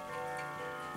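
A Sligh Early American clock ticks in a short, steady run of faint ticks over a low background hum.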